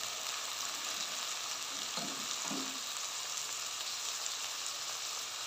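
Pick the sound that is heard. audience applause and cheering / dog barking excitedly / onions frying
onions frying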